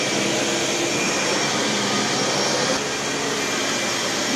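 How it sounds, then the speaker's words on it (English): A vacuum cleaner runs indoors around rescue dogs, a steady, loud, broadband whooshing roar that holds unchanged throughout. "Our doggies aren't afraid of no vacuum cleaners."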